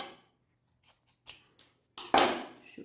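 Scissors snip through fabric while a zippered makeup bag is being made, giving a few sharp, close cuts separated by pauses, the last snip the loudest.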